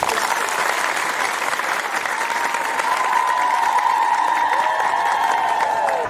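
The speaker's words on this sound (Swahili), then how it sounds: "makofi" Sustained applause from a crowd at a public rally in Palma, Mozambique, steady and dense throughout with faint cheering mixed in.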